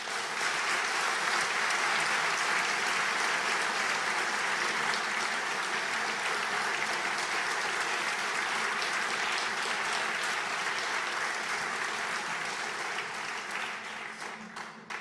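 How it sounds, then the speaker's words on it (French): Steady, dense applause from a large audience at a foundation anniversary gala, sustained at an even level for the whole stretch and tapering slightly near the end. "tous nos applaudissements pour Brigitte Lantz"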